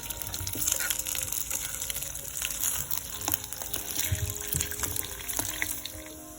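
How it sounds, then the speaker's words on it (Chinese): Fried pork belly hits a wok of caramelized sugar and is tossed, giving a steady sizzling hiss with scraping stir-fry clatter throughout, fairly quiet. "直接把我们刚刚炸好的猪肉呢，再放进锅里面进行一个翻炒"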